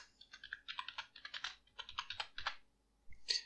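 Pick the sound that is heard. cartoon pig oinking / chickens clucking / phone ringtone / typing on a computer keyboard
typing on a computer keyboard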